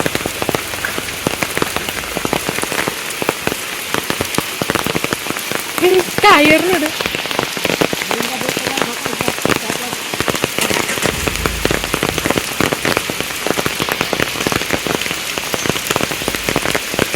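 Heavy rain pours steadily onto a surface in a village, a dense, loud patter that continues unbroken throughout.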